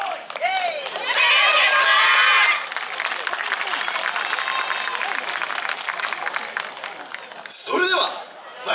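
A large crowd cheers and shouts at a yosakoi dance festival main stage, loud sustained cheering with clapping that surges in two bursts, with high children's shouts in the mix.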